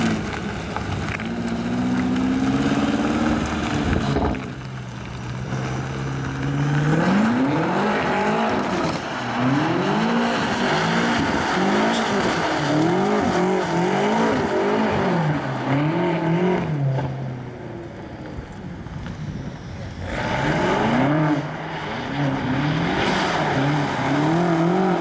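A BMW M5 F90 burns rubber with a loud, continuous roar of engine and squealing tires, the pitch sweeping up and down in repeated rising and falling waves across most of the run.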